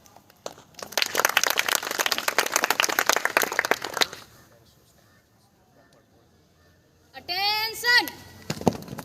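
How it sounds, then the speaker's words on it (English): Students clapping at a high school morning assembly, a dense burst of applause lasting about four seconds, then near silence before a spoken voice comes in. "Clap for you, Commander."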